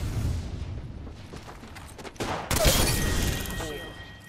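A grenade explodes in a battle royale shooter, giving a sudden loud burst that follows quieter background gunfire and rumble, with the blast trailing off into ringing noise.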